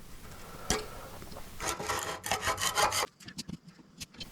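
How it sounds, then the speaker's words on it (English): Old oily dust and grime being scraped off the frame of a Suzuki A100 motorcycle, heard as quiet, close rasping strokes in short uneven bursts with small clicks between them. "So I've just started scraping some of that off."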